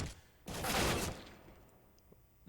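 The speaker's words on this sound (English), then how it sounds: "Just bullets everywhere" Counter-Strike gunfire on the Mirage map in a tournament match: a loud, dense burst of rapid shots lasting about half a second, then quieter scattered sounds.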